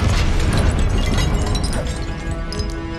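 Confringo blasting-spell explosion in the Hogwarts Legacy video game, a loud, dense burst with rumbling low end and crackling debris that slowly tapers over a few seconds, with no talk.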